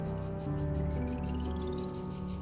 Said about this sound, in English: Now that sounds like crickets.